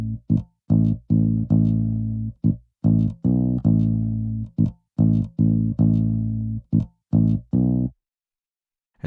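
A guitar plays a chopped, rhythmic riff of short stabs and sustained chords with a thick, resynthesized low end added by a plugin, punchy bursts separated by brief silences, ending in quiet.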